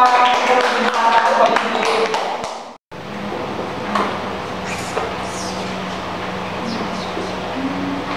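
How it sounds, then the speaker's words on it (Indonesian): A sixth-grade class claps together in a quick patterned rhythm for about three seconds, then the claps break off into a quieter room. Voices are heard throughout. "Ayo tepuk tangan bersama semua"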